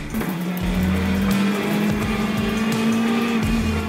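Citroën C3 rally car driven hard at speed, a loud sustained engine roar with a rising pitch through the gears, close and continuous from start to finish with no talking.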